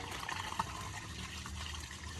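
Waste from the black tank of a 2019 Zinger ZR280BH RV drains through an opened dump valve, a steady close gurgling rush of liquid with a few small splashes.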